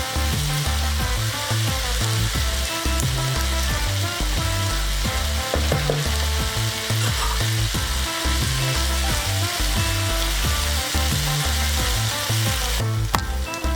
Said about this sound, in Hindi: तो ये मैंने 2 अनियंस लिए थे जिन्हें मैंने इस तरह गोल काट लिया। अब हम इसे ऐड करेंगे और इसे भी इसके साथ फ्राई करेंगे।